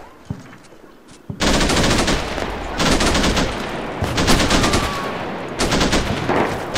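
Heavy machine-gun fire in the urban combat video game Combat Mission Shock Force comes in loud, sustained bursts of rapid shots separated by short pauses, with faint scattered shots in the quieter opening.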